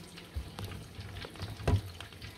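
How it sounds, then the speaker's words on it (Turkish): Eggplant slices fry in a pan at home, giving a low, soft sizzle and bubbling with occasional stirring clatter, quiet and close. "Ben şu an sadece patlıcanlarını kızartıyorum."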